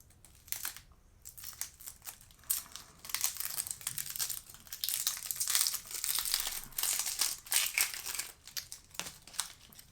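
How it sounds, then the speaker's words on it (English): The papery skin of an onion crackles and crinkles as it is peeled off by hand, a close run of dry rustling bursts that comes and goes in uneven waves. "Then peel your onion."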